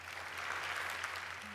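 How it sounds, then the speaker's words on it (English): Audience applause fills a lecture hall at a GiovedìScienza science talk, a steady, even wash of many hands clapping at moderate distance, with a low steady hum underneath. "This is when we're waiting for the round of applause."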